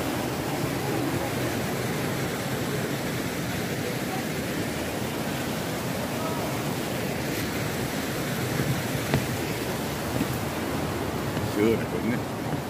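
Spring water gushes and flows steadily at the Bingsu spring on Baekdu Mountain, a loud, continuous rushing close by with no voices.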